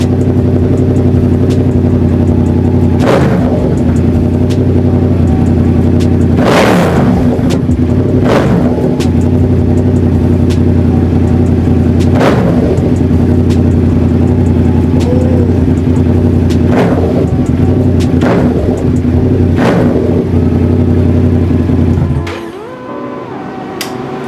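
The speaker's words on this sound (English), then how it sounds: "I gotta rev it louder." A Yamaha R7 motorcycle with a straight-pipe exhaust idles loudly with a deep, steady rumble and is revved in repeated sharp blips before cutting off near the end.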